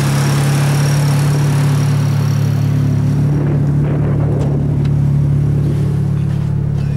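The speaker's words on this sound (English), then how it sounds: "It's a dual ball bearing turbo, which makes nice spool noises." A Mitsubishi Evo 9 with a dual ball bearing turbo, AMS tube manifold and 38 mm wastegate runs with a steady droning engine note and a faint high whine that fades partway through, loud and continuous with no voices.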